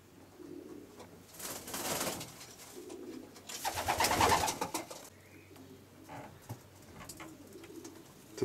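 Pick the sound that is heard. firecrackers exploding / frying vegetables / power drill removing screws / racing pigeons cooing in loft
racing pigeons cooing in loft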